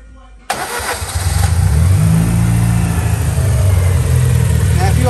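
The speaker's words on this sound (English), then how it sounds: "All right, so let's fire it up again." An MG ZR car with a faulty coil pack and a blowing exhaust starts up: an abrupt crank catching into a loud, close, rough idle with a low rumbling throb that steadies and continues throughout.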